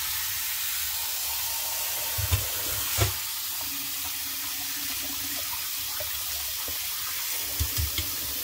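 Water runs steadily into a pot to rinse millet for porridge, a continuous close rushing flow with a few small knocks and clinks.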